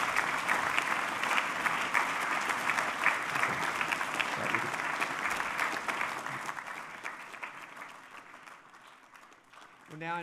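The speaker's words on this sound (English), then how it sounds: "Could we please join in a final round of applause for our Eastwood Medal recipients?" Sustained applause from a large crowd at a school awards assembly, steady and loud for most of the stretch, then thinning out toward the end.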